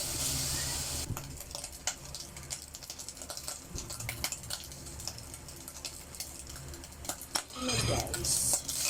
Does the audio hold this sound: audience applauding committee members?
no